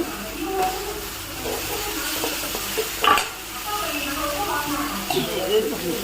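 Onions, ginger-garlic and a small tomato sauté in a pan with a bubbling sizzle and occasional stirring scrapes, while someone talks over it in Tamil.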